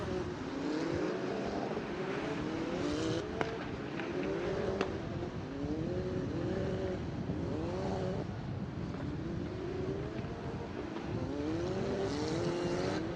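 Race cars on the Jerez circuit return to the main straight during a sprint race, their engines droning at a distance with recurring rising and falling pitch sweeps as they pass, steady throughout with no voices.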